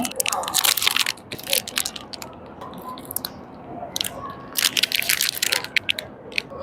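Someone bites into a vegan Dubai chocolate bar and keeps chewing, giving bursts of crisp, close crunching with quiet pauses in between, and brief murmured speech runs in the background.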